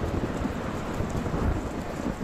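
Heavy rain pours in a dense, steady roar with low thunder rumbling beneath it, continuous and enveloping from start to end, with no voices.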